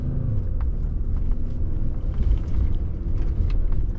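A 2025 Ford Explorer pushes hard through thick mud, its engine a steady, loud low rumble with continuous road and drivetrain noise close up and no voices.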